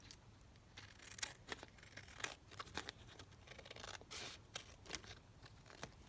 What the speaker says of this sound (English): I apologise for the boring, you know, cutting out of tags